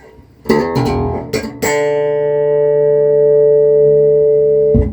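A few plucked low notes on an electric bass lead into one sustained, ringing note that holds steadily for several seconds before fading.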